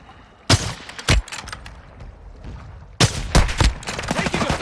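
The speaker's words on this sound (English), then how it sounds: "Taking effective fire." Bursts of gunfire in Call of Duty Warzone 2.0, two sharp shots early on, then a dense rapid volley of several rounds with faint game sounds between them.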